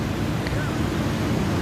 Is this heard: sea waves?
yes